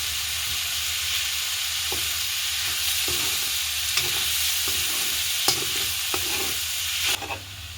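Prawn curry simmering in a pot after salt goes in, giving a steady close frying sizzle and bubbling with a few soft stirring knocks and clinks throughout.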